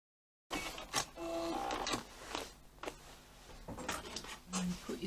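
A sewing machine reinforcing a seam on a tote bag, stitching in short start-and-stop bursts of quiet mechanical whirring and clicking, with a person talking under it at low level.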